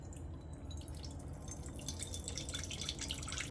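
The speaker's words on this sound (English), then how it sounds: "Now that the coconut is cracked, we're gonna pour the water out." Coconut water pours out of a freshly cracked coconut in a steady, faint trickle and drip that runs continuously with no speech.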